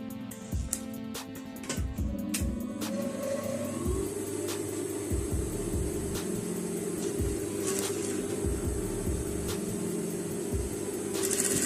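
Sewing machine stitching a folded seam along a marked line at a half-inch allowance, a steady continuous mechanical hum with a dense rapid needle rhythm, close and fairly loud, running without talk.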